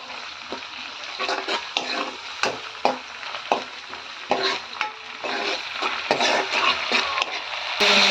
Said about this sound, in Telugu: ఇందులోనే ఇందాక దంచి పెట్టుకున్నా కదా ఆనియన్ పచ్చిమిర్చి పేస్ట్ అది వేసుకుంటున్నాను